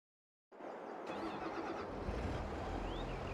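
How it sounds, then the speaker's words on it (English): A New Holland tractor engine in Farming Simulator 22 starts abruptly from silence and settles into a steady, low rumbling idle that grows slightly heavier toward the end. "They're very nice little tractors."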